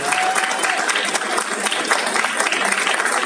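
An audience gives sustained applause for two guest comics artists, Gustavo Schimpp and Horacio Lalia, at the Villa Viñetas comics event. The clapping is dense, steady and loud throughout.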